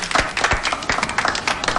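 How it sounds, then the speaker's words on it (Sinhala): A small audience claps for a performer named Cleo, a loose patter of separate hand claps at an uneven rhythm, fairly close and moderately loud, with no talking. "අපි එහෙනම් ක්ලියෝට අත්පුඩියක් දෙමු නේද?"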